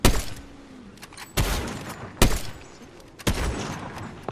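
Fortnite gunfight with four loud, separated blasts spread over a few seconds, each a sharp crack with a brief trailing rumble, close and alone with no talking.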